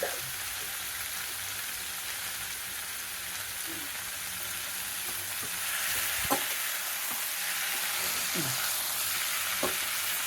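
Taro greens cooking in a pan for a vegetarian dish with no onion or garlic: a steady, close sizzle throughout, broken by a few soft scrapes and taps as the greens are stirred.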